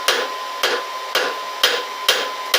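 Hammer strikes on hot 3/4-inch scrap rebar laid half on and half off an anvil while forging tongs: six sharp, ringing blows at a steady, roughly half-second beat, loud and close with no talk.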